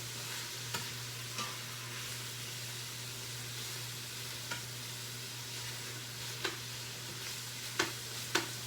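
Bolognese sauce with mushrooms and frozen beef being stirred in an Instant Pot makes a quiet, steady simmering hiss, broken by occasional faint spoon scrapes and clicks, mostly toward the end, with a low hum underneath.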